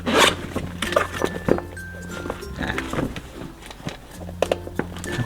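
Zipper on a yellow Moto Wolf 40-litre waterproof motorcycle tail bag being pulled in several quick close-up runs, rasping bursts separated by short pauses and light handling clinks.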